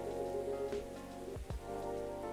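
Soft steady patter of rain in the game Coffee Talk, a continuous low wash with a couple of faint knocks.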